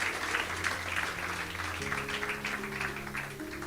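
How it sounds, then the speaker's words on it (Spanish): A church congregation clapping steadily during a worship service, a dense patter of applause that stays even, with a faint sustained musical tone underneath. "Aplauda a nuestro Dios."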